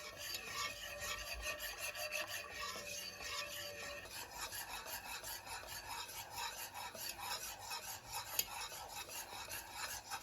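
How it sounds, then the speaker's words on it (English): A whisk works pastry cream in a pan for caramel eclairs, a rapid rhythmic scraping and rasping against the pan bottom that keeps an even, fast pace for the whole stretch, with no voices. "stir the mass constantly with a whisk so that it doesn't burn to the bottom of the pan"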